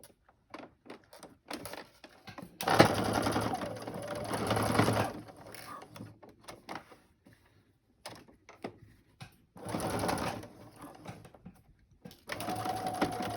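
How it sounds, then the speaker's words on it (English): A sewing machine stitches fabric for a face mask in bursts, with loud whirring runs broken by pauses and small clicks and thumps from handling the material. "Make sure that you take the pins out before you sew over them."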